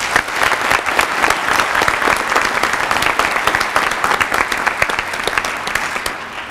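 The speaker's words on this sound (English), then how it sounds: "Let's give her a round of applause." An audience applauds at a military commitment ceremony with dense, continuous clapping that holds steady and fairly loud for several seconds and then eases slightly toward the end.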